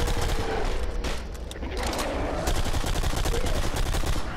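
An AI teammate in the video game BlackSite fires in long, loud automatic bursts, a dense rattling fusillade that briefly dips and then resumes at full intensity, with faint voices underneath.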